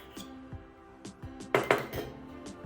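Curd is mixed into gopalkala, a Janmashtami offering, in a bowl: soft, close clinks and scrapes of a spoon against the bowl, uneven and intermittent, with a louder pair of knocks midway and no talking.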